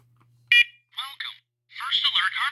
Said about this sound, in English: Here we have Cain and Abel, two first alert SCO 500s. We'll be testing Cain today.